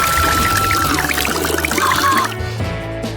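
Water being poured in a steady, fairly close stream, a bright trickle under a noisy background, then a shift to quieter dripping near the end, with no clear talk.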